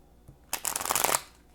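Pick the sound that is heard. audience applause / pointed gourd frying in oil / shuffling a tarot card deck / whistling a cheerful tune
shuffling a tarot card deck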